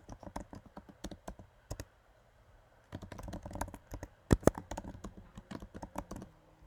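Keys clatter on a computer keyboard as a test account name is typed into a student profile form, quick bursts of clicks separated by short pauses, close and fairly quiet with no talking.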